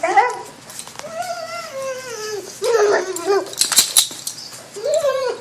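An excited dog whimpers, yips and whines in rising and falling cries as its owner returns home, with the owner's voice briefly greeting it between the cries.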